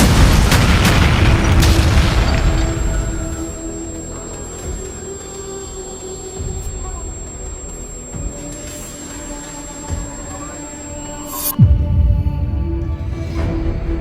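Blackpowder muskets and cannon at a Hougoumont siege reenactment let out a heavy boom at the start, then a long rumbling decay, with scattered distant reports and a second loud blast near the end, all outdoors and without speech.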